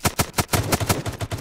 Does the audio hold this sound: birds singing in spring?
no